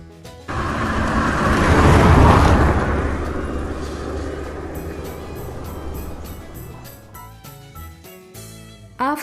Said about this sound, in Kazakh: Машина.